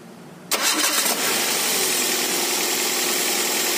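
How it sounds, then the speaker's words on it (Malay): A car engine cranks and catches after about half a second, then settles into a steady, loud idle. The car has a battery warning and heavy steering after being driven through water. "Oke, kita hidupkan engine dahulu ya."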